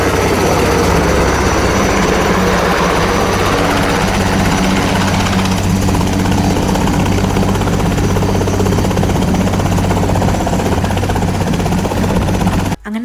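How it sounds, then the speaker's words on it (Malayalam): A helicopter returns and lands at a US tourist site with a loud, continuous, close roar of rotor and engine that stays steady, then cuts off abruptly at the end. "അപ്പോഴേക്കും എന്താ പോയ ഹെലികോപ്റ്റർ തിരിച്ചു വന്നു."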